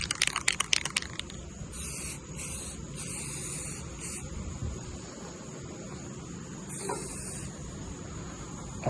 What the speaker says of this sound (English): Usually the cans with the bigger caps spray nice. This one here does not spray nice.